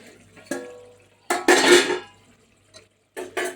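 A plate is set down as a lid on a cooking pot of mutton kurma, a few clinks and a brief clattering scrape of metal and ceramic, close and isolated against quiet.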